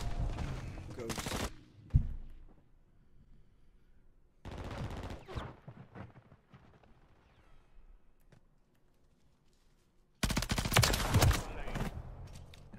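Call of Duty gunfire comes in three dense bursts of rapid shots, loud and close, separated by quieter stretches where someone talks over the game.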